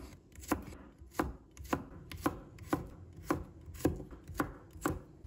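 A knife slices garlic cloves on a cutting board in a home kitchen, about ten crisp, evenly spaced chops in a steady rhythm, close and clear with no talking.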